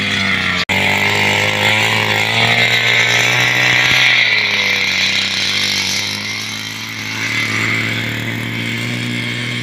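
A Forte MKB-25LUX motor cultivator engine runs close by on its first test, a loud continuous buzzing drone that holds steady with slight dips in revs partway through.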